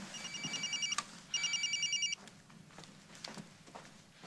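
A cell phone rings in two electronic bursts of repeated chirping tones, fairly faint under background room noise in a soap opera bar scene.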